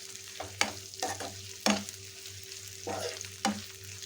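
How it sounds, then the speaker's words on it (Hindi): Garlic butter chicken sizzling in a pan over a high flame, with a steady low frying hiss broken by several sharp stirring scrapes and spatters at irregular intervals, close and moderately loud with no talking. "जब तक हमारा चिकन फ्राई हो रहा है"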